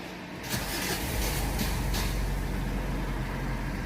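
Mitsubishi Pajero engine starting and then running at a steady idle, a continuous low rumble heard close up with broadband mechanical noise, alone without speech.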